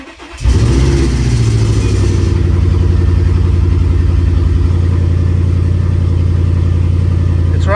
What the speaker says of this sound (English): Check engine light is on from before, but the car is running smooth.